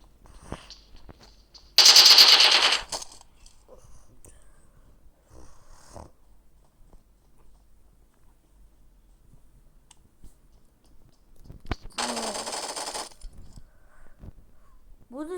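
A machine gun fires in a video game, heard as two loud sustained bursts of rapid fire, the second slightly softer, separated by a long quiet stretch.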